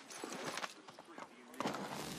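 A horse's hooves clatter in a quick galloping rhythm in the video game Assassin's Creed 3, with someone talking in German over the game sounds.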